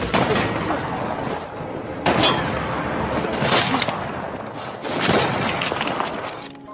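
A German sniper's rifle fires in a World War I film scene, with three loud, sharp shots spaced over several seconds, each ringing out against a rough, noisy background.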